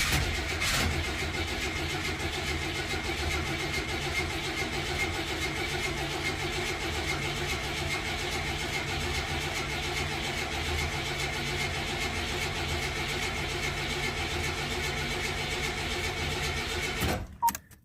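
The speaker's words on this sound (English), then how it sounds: "I'm just going to crank it, build some oil pressure first." A 1981 Buick Regal engine cranks steadily on the starter without firing, a loud continuous mechanical churn lasting about seventeen seconds before cutting off abruptly.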